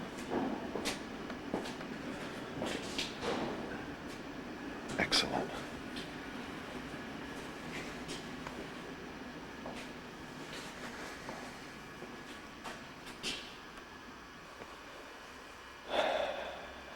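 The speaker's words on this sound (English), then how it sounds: "as a train goes by outside." A low steady rumble of a train rolling past outside in the distance, including old baggage cars, with occasional clanks and squeaks over the long drone, plus a brief spoken word.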